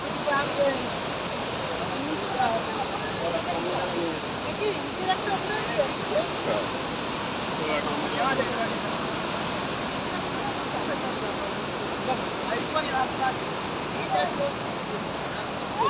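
Water released from Maithon Dam rushes in a loud, steady roar that fills the whole stretch, with faint voices now and then under the torrent.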